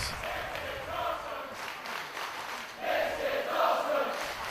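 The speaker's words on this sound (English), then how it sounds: "Crowd once again showing their appreciation for what they're seeing here" A wrestling crowd at a tag team match cheers and applauds at moderate distance, a broad rumbling roar with clapping that swells and surges louder toward the end.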